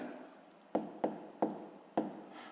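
Pen or pencil tapping and scratching on paper while working a sixth-grade maths exercise: four short, close strokes at uneven intervals over a soft rubbing background, faint and quiet with no voice over them.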